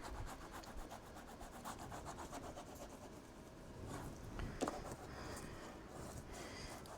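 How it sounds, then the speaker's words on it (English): Paper being burnished by hand on a handmade easel, a faint continuous rubbing and scratching that runs throughout at low volume, close by, with a small knock near the middle. "I'm gonna just do a little burnishing here"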